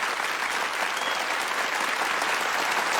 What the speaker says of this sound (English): Okay, clap's getting better.